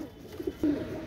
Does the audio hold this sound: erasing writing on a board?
no